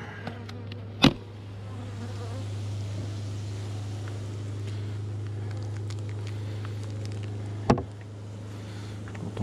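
A swarm of bees gives a steady, low, continuous buzzing drone that holds throughout, with a couple of sharp knocks and faint handling noises on top.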